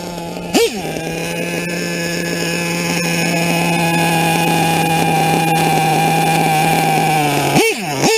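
Nitro engine of an LRP ZR .30 RC car running steadily at a high idle, a loud close buzzing drone, with sharp revving blips at the start and the end.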